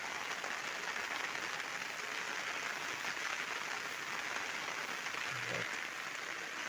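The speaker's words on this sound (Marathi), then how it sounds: "दिवसभर पाऊस पडतोय" Constant soft hiss of rain falling, even and faint, with no talking.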